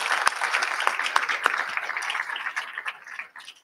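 Audience applause at a panel event on organizational culture and customer success, a steady burst of many hands clapping close and fairly loud for nearly four seconds, thinning toward the end.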